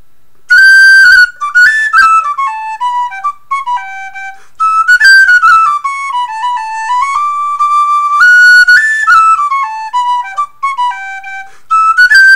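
A handcrafted thick-aluminum Chieftain pennywhistle made by Phil Hardy plays a flowing tune with a strong, bird-like tone, loud and close, its melody rising and falling in clear sustained notes with brief breaths between phrases.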